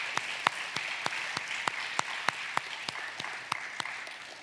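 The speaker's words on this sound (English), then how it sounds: "Please join me in thanking them with a round of applause" Quiet, fairly steady clapping from a small crowd at an indoor school induction ceremony, with single sharp claps standing out about every third of a second.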